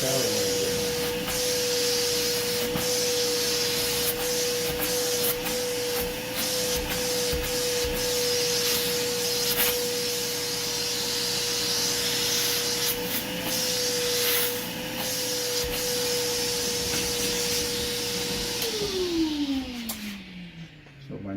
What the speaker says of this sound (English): do a good vacuum job